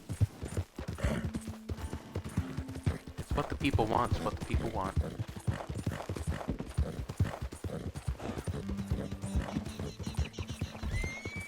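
Horse hooves clip-clop in a steady running rhythm in Red Dead Redemption 2, with a horse neighing and whinnying partway through, while someone talks over the hoofbeats.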